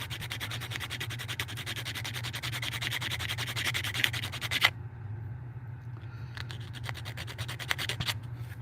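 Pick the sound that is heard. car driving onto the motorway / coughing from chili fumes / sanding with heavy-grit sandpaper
sanding with heavy-grit sandpaper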